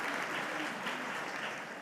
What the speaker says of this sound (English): A really good round of applause.